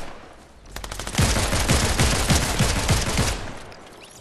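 Rapid automatic gunfire from a gun in a video game, a loud sustained burst of closely spaced shots lasting about two seconds.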